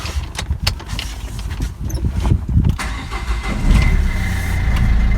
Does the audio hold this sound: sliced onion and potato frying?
no